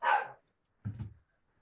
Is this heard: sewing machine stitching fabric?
no